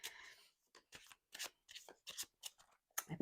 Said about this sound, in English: where the shuffle really gets satisfying is the overhand, because they do that buttery glide